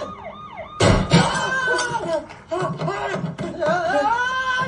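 A wailing siren sweeps up and down, quietly at first and then loud and close, with voices talking over it.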